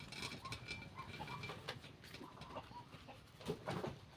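Faint, scattered duck calls and squawks, irregular and somewhat distant, with small rustling sounds between them.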